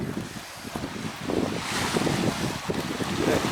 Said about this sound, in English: right now, the wind's blowing right in it